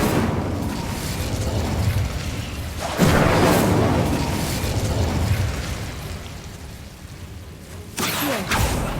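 Incendio fire spell cast in Hogwarts Legacy: a loud whooshing burst of flame at about three seconds that roars on and fades, followed by a second sharp burst near the end.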